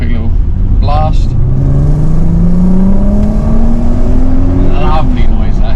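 VW Golf R32 barn find engine pulling hard on a quick drive, loud cabin drone with pitch climbing steadily through a gear, a voice briefly heard over it.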